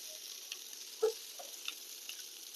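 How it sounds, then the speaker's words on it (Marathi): Oil drizzled over stuffed bitter gourd frying on a flat iron griddle makes a faint continuous hiss, broken by a few soft pops and light clicks. "पुन्हा एकदा ह्याच्यावर आपण तेल सोडतोय"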